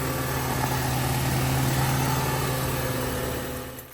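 A Mercedes W203 C180K engine runs steadily at idle after a battery replacement, a close, constant hum with no talk that fades slightly near the end.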